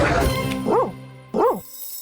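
A dog gives two short, separate whining barks at close range, a rising-and-falling yelp each time, following a burst of louder mixed noise at the start.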